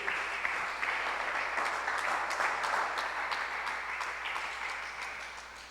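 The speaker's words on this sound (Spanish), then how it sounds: "Le doy un aplauso al Señor." Members of a church congregation applauding together during a service, a broad, lively burst of clapping from many people that holds steady and then gradually tapers off, with no voices on top.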